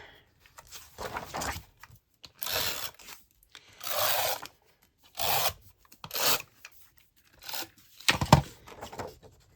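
Tape is torn repeatedly to join planner pages for junk journaling, in about six short, separate rasping rips spaced a second or so apart, close by with quiet gaps between them.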